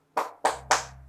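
Three sharp, evenly spaced hand claps from a classroom clapping chant led with children, crisp and close in a quiet room.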